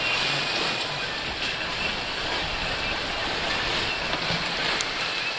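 Rough ocean waves and gusting wind buffet a sailing boat heading from Argentina to the Falklands, a dense, steady roar of water and air with no breaks, loud and close.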